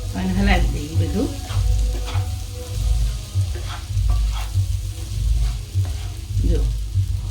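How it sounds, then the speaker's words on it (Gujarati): Sabudana khichdi being stirred in a pan after lemon juice and coriander go in, with a soft sizzle and irregular spoon scrapes over a low steady hum, close by and moderately loud. "ઉપરથી થોડી કોથમીર નાખી અને હલાવી દઈએ બધું"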